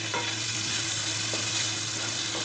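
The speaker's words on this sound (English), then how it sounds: "We will saute green peas and peas of great quality" Green peas and carrots sautéing in a pan for street-style vegetable chowmein, giving a steady, close sizzle with soft stirring scrapes throughout, no voices.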